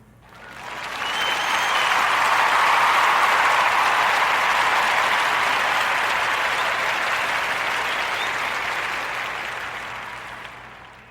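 A crowd's round of applause swells quickly into dense, steady clapping, holds for several seconds, then gradually tapers off, with no voices over it.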